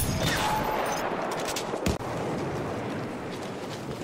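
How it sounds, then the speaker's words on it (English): Machine gun fire in the video game Battlefield 1, rapid bursts of gunfire and crackling shots over a noisy battlefield, with a sharp louder report near the middle. "There's an enemy machine gun."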